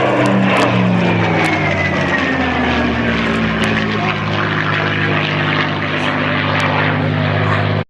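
Spitfire V12 aircraft engine running at a steady idle close by, a loud, rich, throbbing drone with a deep even pulse and faint pitch drifts, a few sharp ticks scattered through it, ending abruptly.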